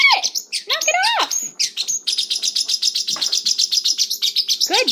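A parrotlet wearing an anti-plucking Elizabethan collar chirps in loud, rapid bursts of sharp tweets close by, with a few lower squawks mixed in and a voice speaking briefly.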